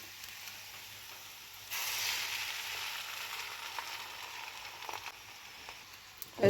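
Beaten egg hits a pan of frying spring onion thoran and bursts into a sudden, steady sizzle that crackles on with faint stirring noises.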